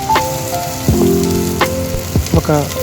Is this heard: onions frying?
yes